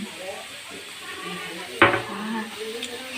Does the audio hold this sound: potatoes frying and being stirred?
yes